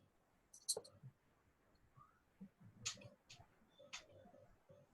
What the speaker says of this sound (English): we shall click on the nucleotide blast